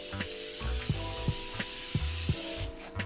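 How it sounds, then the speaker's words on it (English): An aerosol can of makeup setting mist sprays in several short hissing bursts, close up, with faint clicks between the puffs. "Comes in nice aerosol spray."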